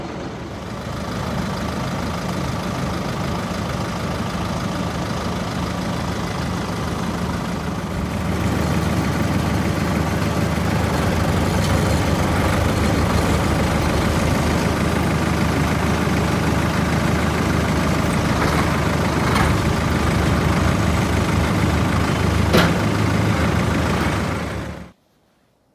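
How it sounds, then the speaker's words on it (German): A Swiss Hürlimann tractor fitted with snow chains idles steadily in snowy weather, a continuous low engine rumble that swells slightly partway through and then cuts off abruptly near the end, with no voices. "Ein Schweizer Traktor. Ein Hürlimann. Mit Schneeketten montiert."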